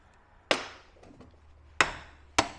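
A two-pound Thor mallet with one hide face and one copper face strikes a motorbike part in a workshop, three sharp, hard blows spaced unevenly, each ringing briefly before fading.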